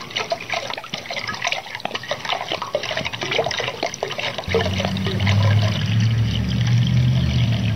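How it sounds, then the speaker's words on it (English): Water is poured into an open container, starting as a patter of drips and splashes and then becoming a steady, fuller gurgling stream partway through, fairly close and with no voices. "Pour it into an open container"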